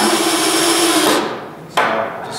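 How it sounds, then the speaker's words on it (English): A power drill drives screws through wall gable boards, a loud close whirring motor that winds down, followed by a short sharp burst of drilling. "we're gonna probably recommend screwing them together this way"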